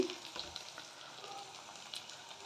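Vegetables frying in a pan for lentil dal, giving a soft, steady sizzle for a couple of seconds with faint stirring scrapes, no voices.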